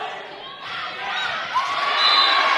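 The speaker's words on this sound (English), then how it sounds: "Not sure if you guys at home can hear the Crater students here, but they're doing some chirping and some honking." Student section crowd at a high school volleyball game, chirping, honking and yelping in a loud, continuous mass of voices that swells toward the end, with a rising whistle-like yelp cutting through.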